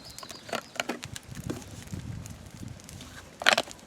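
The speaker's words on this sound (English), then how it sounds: "This fire is almost burnt down enough that I can put my steak on over." A wood fire burning down to coals crackles with scattered small pops over a steady hiss, with one sharper, louder snap near the end.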